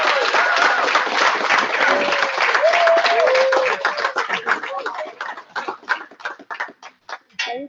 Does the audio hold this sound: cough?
no